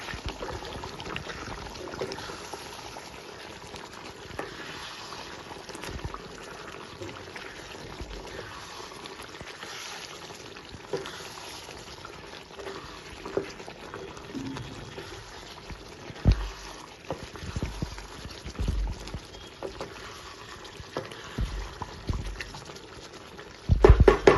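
A pot of raw-mango country chicken curry simmers with a low, steady bubbling and spluttering that runs throughout. A few louder knocks and splashes come near the end.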